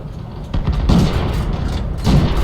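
A tank's main gun firing in a video game on a proving-ground test map: loud, deep booms, a first blast followed by a second close behind it and another near the end, each with a rolling low tail.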